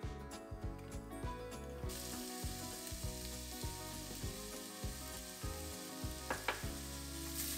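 Onion, garlic, tomatoes and spices sauté in oil with mustard, cumin and fennel seeds for sambar, a dense, even sizzle broken by rapid rhythmic scraping clicks of stirring, faint and close.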